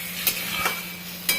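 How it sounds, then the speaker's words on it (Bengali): Katla fish curry masala with radhuni paste cooks in a pan, a steady close sizzle of frying spices broken by a few sharp clinks of a spatula stirring against the pan. "কষাবো ভালো করে।"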